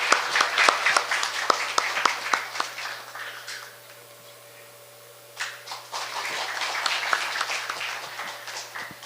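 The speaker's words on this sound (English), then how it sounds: "Let's please welcome him with a warm round of applause." An audience at an international conference on North Korean human rights applauds to welcome a keynote speaker, with dense clapping that thins out midway and then swells back for the rest of the clip.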